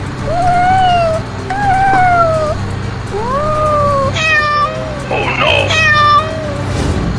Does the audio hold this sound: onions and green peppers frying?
no